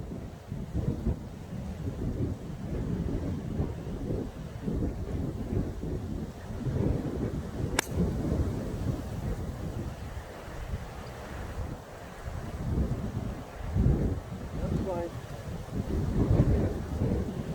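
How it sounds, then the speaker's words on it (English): Strong wind roars and buffets the microphone across an open golf course in South Pembrokeshire, with heavy low gusts swelling and easing throughout, alone without talk. "Just really conscious with a really strong wind again here"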